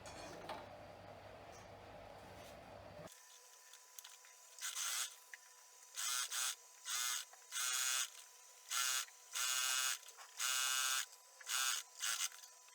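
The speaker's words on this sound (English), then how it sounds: "So I'll be sewing with 1/2 inch seam allowance, just straight down from here" A sewing machine stitches a scrunchie fabric seam in short, separate bursts of fast buzzing, roughly eight runs separated by brief pauses, close and fairly clear, after an earlier stretch of steady background hum.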